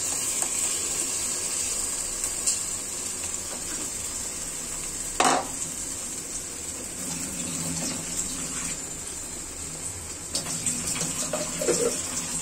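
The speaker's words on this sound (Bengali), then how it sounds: "পাত্রগুলো ধুয়ে পানি দিয়ে দিচ্ছি" Containers are rinsed under running tap water in a home kitchen while a blended loitta dried fish and raw banana mash is being made; a steady rush of water runs throughout with a few brief clinks and splashes.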